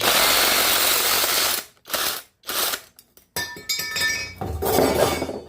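Scrap brass and copper pieces clink and rattle against each other, a dense metallic jangle followed by several short bursts of clattering with brief pauses between.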